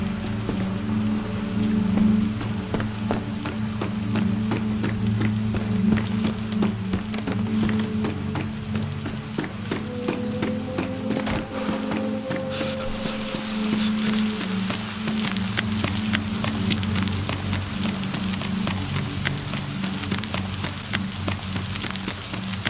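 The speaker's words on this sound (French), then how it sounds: "Il pleut" Rain falls in the DayZ video game as a steady wash of patter, with faint scattered drips and thuds in the background, continuous and moderately loud without talk.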